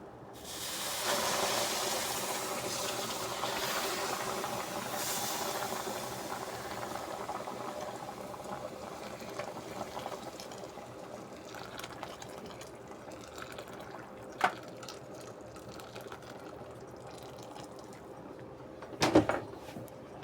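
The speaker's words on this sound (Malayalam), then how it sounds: "വെള്ളം ഒഴിച്ചു" Boiled hot water is poured into a pan of payasam, a long steady hiss and bubbling that fades gradually, with a couple of sharp clinks near the end.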